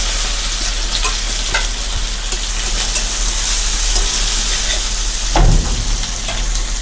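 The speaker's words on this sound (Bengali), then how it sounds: "রসুন আর জিরা আর কালো মরিচ কুটে রেখে দিয়েছিলাম, আর সঙ্গে কড়ি লিভসও কুটেছিলাম। তো এগুলো দিয়ে দেবো এখন।" Garlic, cumin, black pepper and curry leaves frying and being stirred in a pan, a steady close hiss of sizzling oil with a brief louder splutter as more goes in near the end.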